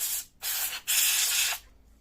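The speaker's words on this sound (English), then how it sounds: "With compressed air, everything will blow out." Compressed air blasting dust out of an Acer Aspire E5-511 laptop, three short hissing bursts in quick succession, the last one longest, close and fairly quiet with no talking.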